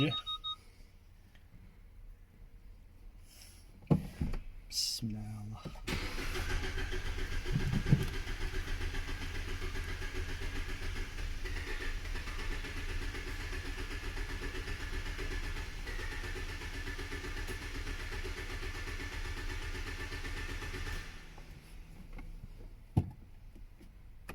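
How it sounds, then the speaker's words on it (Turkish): A Hyundai ix35 engine cranks and catches, then settles into a steady close idle that runs for about fifteen seconds before cutting off, with a few sharp clicks and knocks around the start and end. "Motorun sesi şu an duyuluyor."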